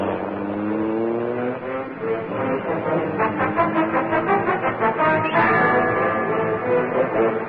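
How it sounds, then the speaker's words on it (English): A powerful car engine in an old-time radio drama sound effect revs up loud and sustained, surging through several throaty pulses before settling into a steady roar, with no voices over it. "The great car roared into life."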